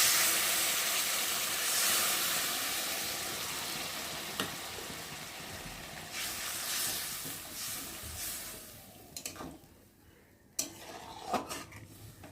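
Mustard-laced spice paste for a bhola fish curry fries in a pan with a steady close hiss that slowly fades, followed by a few sharp clinks and scrapes of a utensil against the pan.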